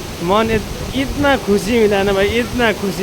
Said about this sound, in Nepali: आज गुडुवामा पानी बवाल परेछ